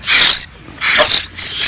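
Young hill myna chicks call in three loud, harsh, raspy screeches separated by short pauses, very close and alone.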